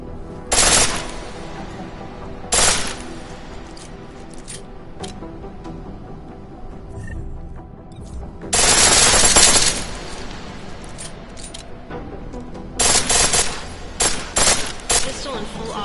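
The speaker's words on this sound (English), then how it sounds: "Pistol in full auto will take down targets fast." Bursts of rapid full-auto pistol fire in Deus Ex: Mankind Divided, several loud volleys separated by pauses, the longest near the middle, with quieter game ambience between.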